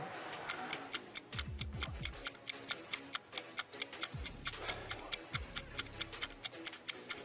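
Sharp, regular clock ticks mark a countdown timer in a sports broadcast segment, about two or three per second, crisp and prominent over faint low thuds and background noise, with no speech.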